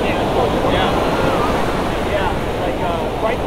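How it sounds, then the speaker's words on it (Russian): Ocean surf on a Los Angeles beach surges and crashes continuously, a loud rushing wash of breaking waves mixed with wind buffeting the microphone. "Так это же океан."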